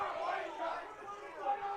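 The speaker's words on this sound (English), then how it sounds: "Bulldog crowd very unhappy with that call." Soccer crowd at a women's college match voicing displeasure at a referee's call, a steady murmur of grumbling and chatter from the stands with a swell of voices near the end.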